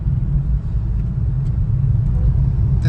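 A car driven by a newly trained driver on the way to Trimbakeshwar, heard from inside as a steady low engine and road rumble that holds close and even throughout, with no talk over it.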